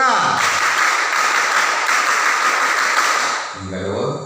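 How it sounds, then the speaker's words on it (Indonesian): A group of children performs the Indonesian scout clap during a game, giving a dense, loud burst of rhythmic clapping that fills most of the moment before voices return. "Tepuk pramuka."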